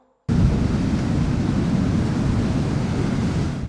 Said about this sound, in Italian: onde altissime dai 5 agli 8 metri che hanno completamente inghiottito tratti interi della passeggiata